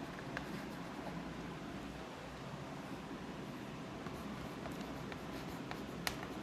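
Pen scratching steadily across paper as a chemistry definition about d-block elements is written out by hand, a continuous close, soft scraping with a few sharper ticks and no talking.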